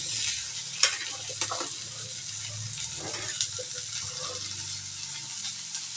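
Cut snake gourd frying in a pan for a masala curry, a soft, steady sizzle with a few light stirring clicks and scrapes, fairly quiet and with no voices.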